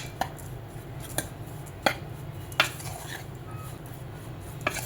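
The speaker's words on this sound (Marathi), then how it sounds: "आता आपल्याला हे सर्व व्यवस्थित मिक्स करून घ्यायचं आहे" A spoon clinks sharply against a bowl several times, each knock separated by quieter scraping, as jowar flour chilla batter is mixed with crushed garlic; the sounds are close and fairly soft.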